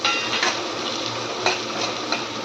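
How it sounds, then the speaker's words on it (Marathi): Chopped onion sautés in hot oil, a bright crackling sizzle up close, punctuated by a few quick clinks and scrapes of a spoon against the pan. "हा जो आपण कांदा चिरला आहे तो पूर्णपणे ह्याच्यामध्ये टाकून घ्यायचा तेलामध्ये त्याला चांगला परतवायचा"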